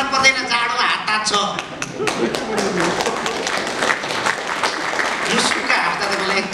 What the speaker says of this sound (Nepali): एकचोटि सर र ताली बजाउनु होला तपाईँहरू रमाइलो गर्नु भन्दैछु